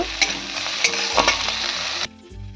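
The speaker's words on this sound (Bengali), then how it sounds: "রসুনটা ঘষে দিয়েছি, দিয়ে ভালো করে ভাজা করে নেব।" Grated garlic, about five cloves, fries in a pan with a steady, close sizzle and a few sharp stirring clicks. The sizzle drops away abruptly near the end and leaves a quieter hiss.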